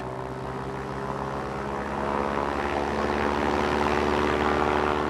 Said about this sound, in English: Facing into a 25-mile-per-hour wind, the V-173 literally takes off vertically.